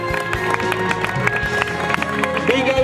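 Crowd applause and clapping at the finish of a mountain trail race in Vall de Núria, a dense, steady patter of hands carrying throughout with voices mixed in beneath.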